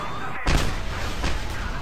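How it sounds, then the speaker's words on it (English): Rocket launcher fired at a sniper in the video game Just Cause 2: a sudden heavy boom with a rumbling tail, followed by a second softer blast, set against steady game background noise. "Grab the rocket launcher,"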